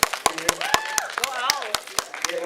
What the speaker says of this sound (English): Don't be scared to clap.